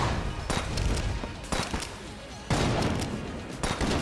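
Repeated gunfire in the game Enter the Gungeon, with a flare gun firing during a boss fight against a fire-immune boss: sharp bursts roughly every second over a dense, noisy game soundtrack.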